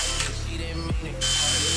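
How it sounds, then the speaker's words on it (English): A power drill whines steadily, briefly bogs down and dips in pitch as it bites into an electric ATV's frame, then spins back up to full speed. "And then now you just drill the hole through"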